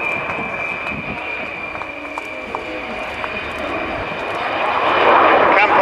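An Avro Vulcan B2 bomber passes overhead at an air show with its bomb doors closing, a loud sustained jet roar with a steady high whine that swells toward the end.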